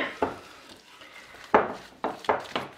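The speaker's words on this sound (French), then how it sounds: "Je mélange bien mon bouillon parce que des fois, avec les bouillons, ça a tendance à aller au fond, donc on mélange bien." A spoon stirs duck-parmentier broth in a pot, giving a few distinct scraping, clinking strokes against the metal, separated by quieter pauses, close and fairly loud with no talking.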